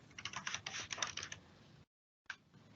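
Rapid keystrokes on a computer keyboard entering map coordinates, a dense close burst of clicks for about two seconds, then a gap of silence and a few more taps.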